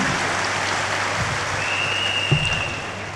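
An audience applauding at the installation ceremony of the Université du Troisième Âge de Guinée, a dense steady wash of clapping that continues evenly throughout.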